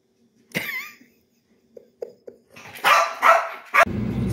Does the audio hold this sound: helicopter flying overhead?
no